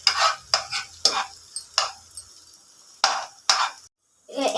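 Onions are stirred and fried in a pan for egg fried rice, heard as a run of irregular, close scraping strokes with light sizzling between them and brief quiet gaps.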